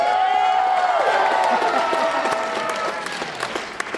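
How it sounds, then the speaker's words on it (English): A crowd claps for a child in a little blue demon costume at a costume contest, loud steady applause with some cheering that tapers off into scattered claps over a few seconds. "Give this little blue demon a round of applause."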